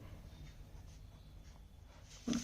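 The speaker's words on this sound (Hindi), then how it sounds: "चलो 2 साथ में लिखते हैं फटाफट" A pen scratches softly on paper at close range, faint scribbling strokes over quiet room noise, ending with a slightly louder mark.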